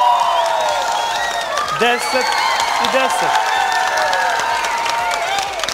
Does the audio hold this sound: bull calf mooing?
no